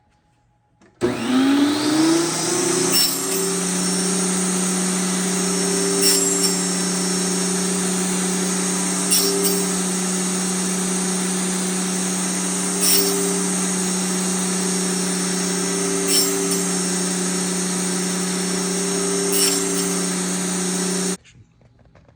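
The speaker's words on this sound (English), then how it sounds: "table saw set to 1 3/4 inch, and I'm just going to cut up a 48 inch stick" Table saw cutting a 48 inch wooden stick into pins: a loud, steady whining motor drone that starts abruptly and holds for about twenty seconds, with faint periodic ticks, then cuts off.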